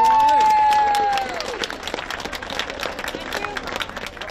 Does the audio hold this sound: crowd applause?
yes